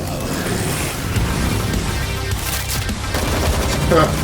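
Rapid gunfire bursts from an animated Death Battle fight between Ghost Rider and Spawn, dense machine-gun fusillade blended with booming music and effects, loud and continuous throughout.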